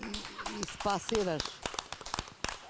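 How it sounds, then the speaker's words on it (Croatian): On a reality cooking show, a quick round of clapping from a small group breaks out right after a voice speaking nearby. The claps are sharp, rapid and close, and taper off within about a second. "Jedan, molim vas, aplauz."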